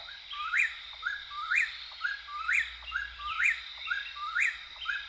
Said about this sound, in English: Whippoorwills have such a distinct call.